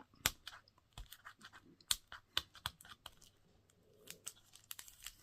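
Adhesive tape crackles and rips up close in quick, irregular bursts of sharp tearing and crinkling, quiet between snaps.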